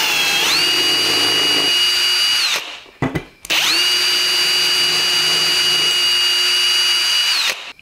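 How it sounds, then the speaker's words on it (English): Power drill boring small pilot holes with a 5/64 bit through a bladed jig on a wooden table, loud and close, two steady whining runs of about three seconds and four seconds, with a brief stuttering pause between them. "And then just drill your holes."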